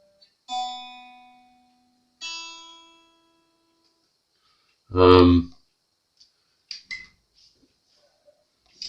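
Single notes on a Daisy Rock electric guitar plucked and left to ring while tuning, followed by a loud strummed burst and a few small clicks and taps.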